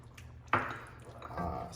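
Water poured into a simmering pot of lasagna tomato sauce with sugar, a sudden splashing pour that settles into a soft, close liquid wash for about a second.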